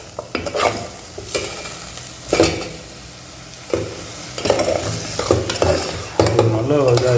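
A spoon repeatedly scrapes and stirs cabbage and mixed vegetables sautéing in oil in a pan, loud close strokes in an irregular rhythm over a soft underlying sizzle, with no speech.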